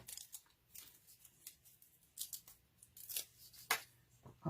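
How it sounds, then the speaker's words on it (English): Scissors snip through card in a series of short, close, quiet cuts, trimming it into a thin strip, with faint papery rustling between snips. "I shall cut it the other way"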